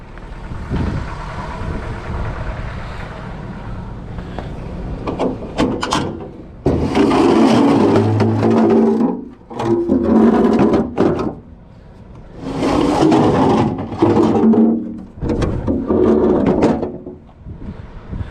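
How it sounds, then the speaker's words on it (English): Metal vehicle ramps being pulled out and handled at the back of a truck in a scrapyard, with loud clanks, scrapes and thuds coming in bursts across the clip, close by and without speech. "Let's get these ramps out."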